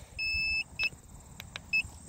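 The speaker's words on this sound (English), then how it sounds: "Excuse the excess beeping." An iSinwheel S9 Max electric scooter on a bike trail gives a series of electronic beeps, a long tone followed by shorter ones, clear and close over faint background noise.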